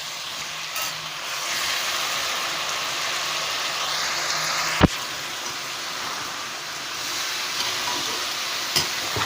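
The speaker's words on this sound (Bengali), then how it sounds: "ছোলাগুলোকে দিয়ে একটু নেড়ে নিলাম।" Soaked chickpeas sizzle in a hot pan with oil as a spatula stirs them, a steady bright hiss broken by a couple of sharp scrapes and taps against the pan, heard up close without talking.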